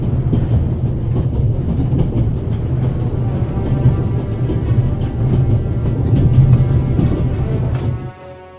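A train in the video game The Raven: Legacy of the Master Thief rumbles steadily and loudly, with faint rhythmic clatter throughout before fading at the end.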